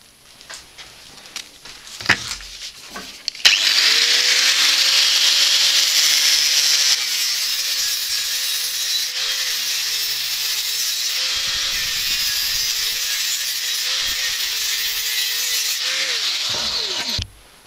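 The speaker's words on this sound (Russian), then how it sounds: "Набираем подвесы пачечкой, ну, 10-15 штук, и нарезаем пластинки." After a few clanks, a power saw whines steadily for a long stretch, cutting through a stack of 10-15 steel hanger strips into plates with a harsh, high grinding sound.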